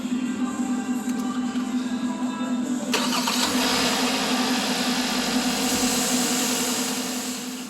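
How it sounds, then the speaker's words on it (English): A car engine cranks and catches after its fuel pump fuse is removed, settling into a steady idle with a constant hum, close and clear, with no talk over it. "start the engine"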